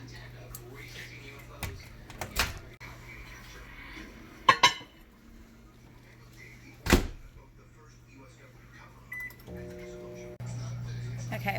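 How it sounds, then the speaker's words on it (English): A microwave oven hums steadily in a kitchen while a stick of butter melts inside, with a low drone and a few sharp clinks and knocks of dishes. A person talks briefly nearby, and a beep-like tone sounds near the end. "I'm going to take a stick of butter and I'm going to melt it in the microwave"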